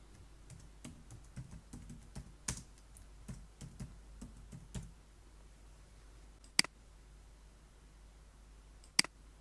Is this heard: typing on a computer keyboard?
yes